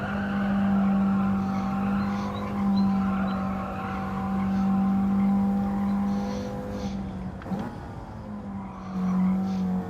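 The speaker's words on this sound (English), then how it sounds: "You just throw the cars around and they just slide." Race cars in the Gran Turismo 7 video game slide and skid, a steady droning engine note running throughout with tire squeal and a brief sharper scrape near the end.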